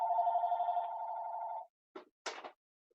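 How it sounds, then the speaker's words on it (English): A telephone rings indoors during a community talk about an eBike lending library, one long steady electronic ring followed by a couple of short broken bursts, fairly clear and alone. "I'm gonna turn off that phone"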